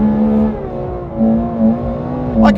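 Ferrari F12 TDF V12 engine pulling hard in third gear, a loud, continuous, close-up roar with a strong steady tone that dips briefly and rises again, swelling near the end.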